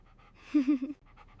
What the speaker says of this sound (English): Your brave dog Rocky saved you today.